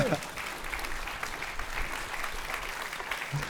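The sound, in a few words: audience applause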